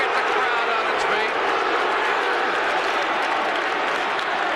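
A loud, dense roar of applause and cheering fills a college basketball arena at Virginia versus North Carolina, sustained crowd noise with voices mixed into it.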